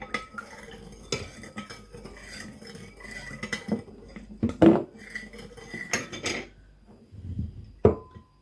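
A metal spoon stirs a ginger drink in a pot, with irregular scrapes and clinks against the sides, several sharper knocks standing out, close and clear with no talking.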